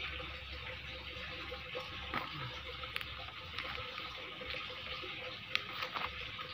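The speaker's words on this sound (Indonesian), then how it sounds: "lalu kita siram." Water is poured onto the roots of a strawberry plant, giving a steady, soft splashing hiss with faint drips throughout and no talking.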